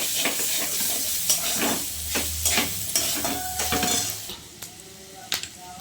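Ginger paste fries in a pan with a dense, close sizzle, while a utensil stirs and scrapes against the metal in quick irregular strokes before the cooking quietens toward the end.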